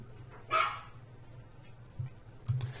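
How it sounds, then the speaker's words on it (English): A dog sound effect playing back in a Unity 2017 timeline scene: one sharp bark near the start and a couple of fainter yips later, all over a low steady hum. "Seemed like the dog audio didn't play right away."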